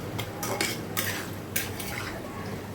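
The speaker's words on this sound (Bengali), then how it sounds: "দিয়ে নিয়ে ভালো করে আবারও কষিয়ে নেব।" Meat stir-fried in a pan with salt, turmeric and chili powder: a utensil scrapes and clinks against the pan in several quick strokes over a faint background sizzle, fairly quiet, no voices.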